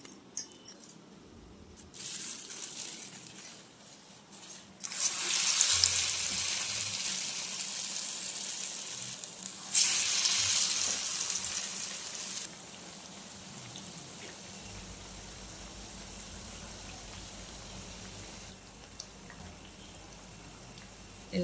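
Black-eyed pea fritters crackle and sizzle in hot oil, a steady hiss that swells louder in stretches as they are turned, with someone speaking softly over it.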